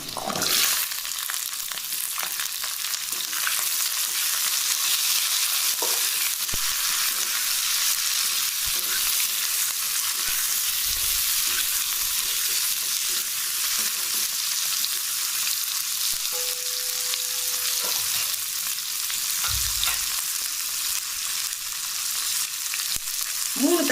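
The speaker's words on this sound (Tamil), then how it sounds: "இப்போ பூண்டு லேசாக வதங்கிடுச்சு இப்போ வெங்காயம் போட்டுக்கலாம்" Onions go into garlic sautéing in oil for a chicken kulambu, a long steady sizzle with intermittent scraping stirs and a brief faint tone partway through.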